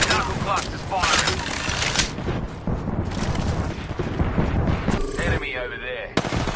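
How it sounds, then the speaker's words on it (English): A knuckle cluster weapon fires in a video game, a dense, continuous barrage of rapid explosive bursts filling the whole stretch, loud and relentless, with a brief shift near the end. "Yeah, knuckle cluster's firing."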